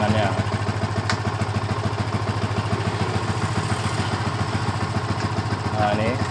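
An old Yamaha Vixion motorcycle with a battery-draining fault idles nearby, its engine putting out an even, rapid thrumming pulse that stays constant throughout.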